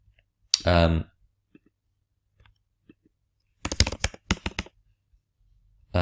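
A computer keyboard gives off a short, quick burst of close clicking keystrokes. An isolated vocal sound comes earlier, and the rest is near silence.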